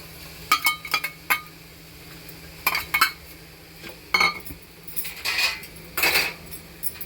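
A metal spoon scraping and clinking against a pan as lentils and jaggery are mixed into ghee, giving scattered sharp clinks and scrapes with a few softer stirring passes in between.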